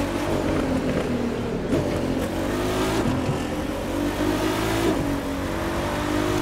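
A steady, droning Jaguar C-X75 supercar engine in the racing game The Crew 2 hums continuously with slight pitch shifts, sounding synthetic and even, with no voices.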